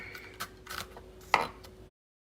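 A knife minces food very fine on a cutting board, giving a handful of quick, close chopping taps in an uneven rhythm before the sound stops abruptly.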